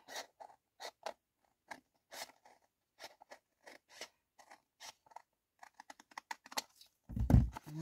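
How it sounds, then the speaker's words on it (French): Scissors snip small pieces for a Shabby-style Christmas folio craft kit, with repeated crisp cuts in an uneven rhythm, close and clear, ending in a louder rustle. "Je viendrai faire les petits morceaux avec mes ciseaux."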